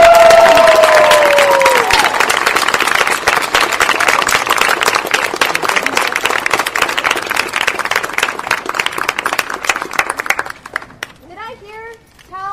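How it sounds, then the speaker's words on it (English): An audience claps and cheers loudly for a teacher named Lucinda, dense clapping that thins out toward the end, where voices and speech emerge over the fading applause. "Let's give a round of applause for our lovely teacher"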